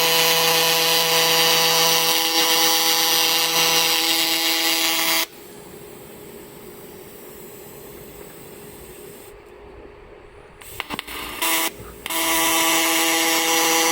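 AC TIG welding a small aluminium bracket with a temporary welder outdoors: a loud, steady buzzing hiss runs for about five seconds, cuts out to quieter wind and faint background noise, then starts again near the end.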